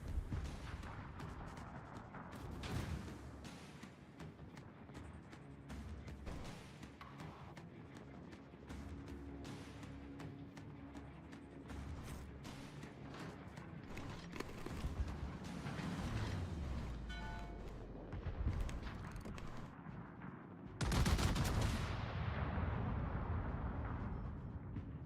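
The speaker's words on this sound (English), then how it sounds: "When those 18-inch shells hit a citadel." Battleship 18-inch naval guns fire and their shells strike home in World of Warships, a long stretch of repeated booming blasts and rumbling impacts layered with game effects, building to a heavy explosive roar near the end.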